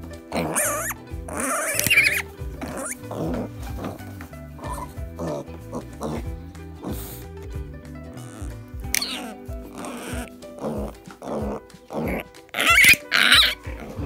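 A Landrace sow nursing piglets grunts and snuffles close by, with short squeals and rustling movement, several bursts scattered through the clip.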